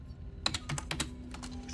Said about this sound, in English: Hit random buttons on a keyboard that makes no sense to us.